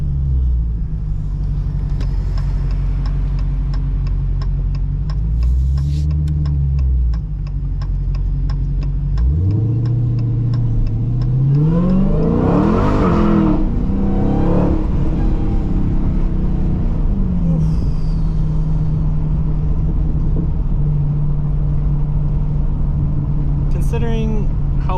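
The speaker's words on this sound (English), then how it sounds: "I don't know if you can hear the Supercharger" A supercharged Dodge Challenger Hellcat Redeye drives with a steady, loud engine drone that swells and falls as it accelerates, and a person talks over it.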